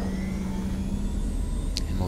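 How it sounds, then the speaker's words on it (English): The engines of a Raptor X spaceship in the video game Star Citizen drone in a steady, even hum that holds for the whole stretch with no other sounds. "Turn on the engines again with the I key on your keyboard."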